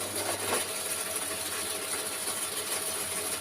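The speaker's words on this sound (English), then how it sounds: "if you get any wood or swarf build up on your drill, clean it off" A drill bores into pre-drilled holes in wood on a gauge 1 locomotive build, giving a steady, close, continuous grinding whir with a high hiss throughout and no talk.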